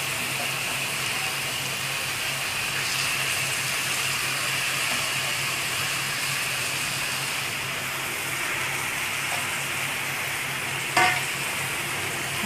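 Chopped cabbage frying in a pan, a loud, dense continuous sizzle with steady stirring underneath and one brief clatter near the end.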